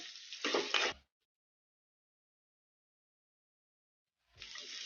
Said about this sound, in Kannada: ಈಗ ಉಳ್ಳಾಗಡ್ಡೆ ಒಂದು ಸ್ವಲ್ಪ ಮೆತ್ತಗಾಗೋವರೆಗೂ ಫ್ರೈ ಮಾಡ್ಕೊಂಬಿಡೋಣ